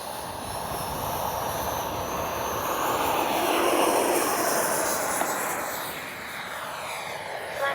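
A 64mm ducted-fan RC F-15 jet takes off with flaps down, its loud, steady turbine-like whine and roaring rush filling the air and swelling as it accelerates, then easing slightly.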